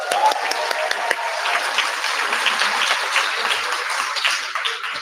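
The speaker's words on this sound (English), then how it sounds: "Let's give him another round of applause." Crowd applause at an outdoor protest rally against genocide, a steady broadband wash of many hands clapping with faint scattered voices, holding evenly for several seconds.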